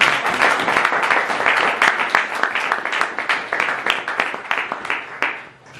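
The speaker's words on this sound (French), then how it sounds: "Nous acclamons le Seigneur pour sa parole." Church congregation applauding during a French-language service, a dense burst of many hands clapping at once that stays loud for several seconds and then fades at the end.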